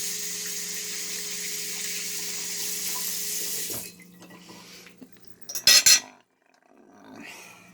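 Water runs steadily from a kitchen tap into the sink for a few seconds during cooking, then stops, followed by a couple of brief clinks and soft handling sounds.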